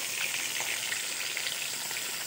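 Pork chops fry in a pan with a steady, dense crackling sizzle that stays even and close throughout, with no voices.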